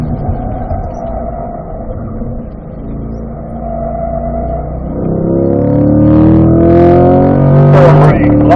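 A car lapping a race track, heard from inside, hums at moderate pace and then climbs into louder, rising revs as it accelerates through the gears.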